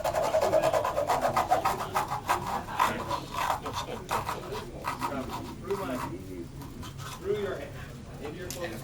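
Hacksaw rasping through a tennis ball at a small tennis-themed close-up show, a steady run of quick sawing strokes for several seconds, with people talking over it.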